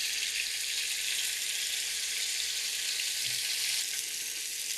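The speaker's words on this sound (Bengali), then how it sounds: "মাছগুলো আমার ভাজা হয়ে গেল, আমি উল্টে পাল্টে প্রায় ৬ মিনিট ভেজে নিয়েছি।" Steady, dense sizzling of turmeric- and chilli-coated katla fish pieces frying in hot oil, a constant crackling hiss with no talking.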